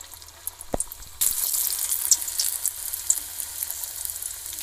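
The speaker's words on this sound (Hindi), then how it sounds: "यहाँ पे कढ़ाई में हमने मीडियम फ्लेम पे तेल गरम कर लिया है, तो एक एक पकौड़ी इसके अंदर डाल देंगे।" Saag leaf pakoras drop into hot oil in a kadhai over medium flame: a brief splash, then a loud, steady, close sizzling and bubbling that continues without talk.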